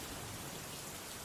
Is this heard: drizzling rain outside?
yes